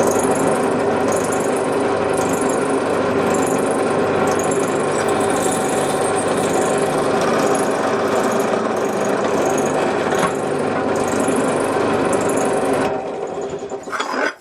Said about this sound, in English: drill press, razor block to keep us out, 1/4 inch brad point bit.